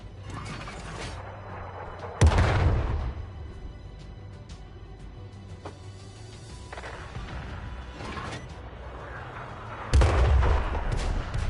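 Tank artillery fire in the console game World of Tanks on PS5: two heavy booming blasts with rumbling tails, separated by several seconds of lower mechanical engine hum and clatter.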